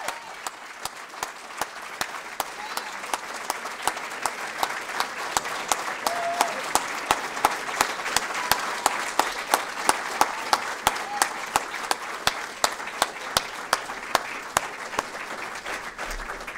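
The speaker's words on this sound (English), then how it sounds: "Another round of applause, please, for the Defense Information School Alumni Hall of Fame" An audience in a hall gives sustained applause at a hall of fame ceremony, steady dense clapping with a few louder individual claps standing out, continuing throughout without speech.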